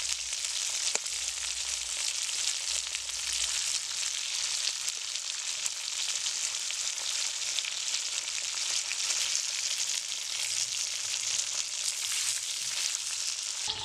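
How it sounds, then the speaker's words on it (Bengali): Pointed gourd (potol) fries in hot oil in a pan, giving a steady, close, continuous sizzle with a faint stir or two and no talking. "পটলগুলো আমার একটু ভাজা হয়ে গেছে এবার পটলগুলো আমি উল্টিয়ে দিচ্ছি"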